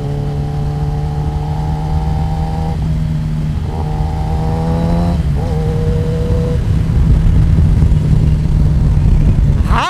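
Kawasaki ZX10R motorcycle accelerating hard, a loud, close engine note climbing through several gear changes with rising pitch and constant wind roar, no talk.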